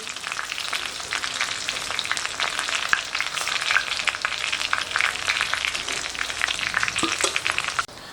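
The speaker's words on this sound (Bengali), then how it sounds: "তো আরও 5 মিনিট আমি হতে দিচ্ছি, আরেকটা দিক হোক আস্তে আস্তে, তাহলে মাংসটা বেশ নরম জুসি হবে।" Chicken chaap fries in oil, a loud, dense crackling sizzle with constant popping that carries on steadily up close and stops abruptly near the end, with no talking.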